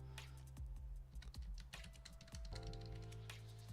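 Typing on a computer keyboard, with rapid irregular clicks and key taps in steady bursts, close and fairly loud over a low background hum, with no talking.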